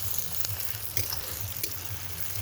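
Pulao ingredients frying in palm oil, a quiet, steady sizzle with small crackles over a low background hum.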